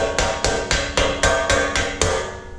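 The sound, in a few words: hammer striking metal toolbox end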